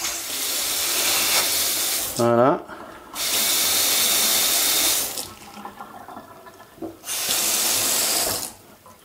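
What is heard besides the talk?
water running from Xiaomi ZAJIA infrared faucet aerator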